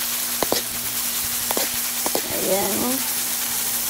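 Salted black beans and banana blossom sauté in a pan with a soft, steady sizzle, punctuated by a few light utensil taps and stirring scrapes, while a voice briefly speaks over it.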